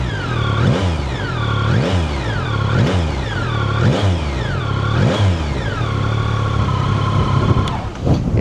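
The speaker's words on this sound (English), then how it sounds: "Let's just have a little listen to see what this bike sounds like." The engine of a 2025 Yamaha Tracer 9 GT+ motorcycle, heard close and loud as the throttle is blipped about once a second in repeated rising-and-falling revs before it settles to a steady idle.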